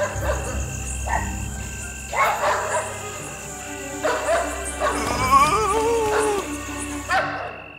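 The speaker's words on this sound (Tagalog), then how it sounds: "Naalerto ang mga aso sa ingay ng mga pusa at nagsitahol na hinahanap ang mga ito" Several dogs bark and yip intermittently, some near and some farther off, over a constant background of chirping insects.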